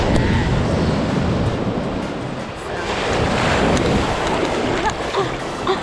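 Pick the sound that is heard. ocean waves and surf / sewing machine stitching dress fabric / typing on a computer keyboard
ocean waves and surf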